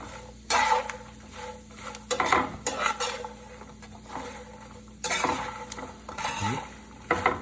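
Food fries in a pan with a soft continuous sizzle, repeatedly broken by clattering stirs and scrapes of a utensil against the pan, nearby and with no talk.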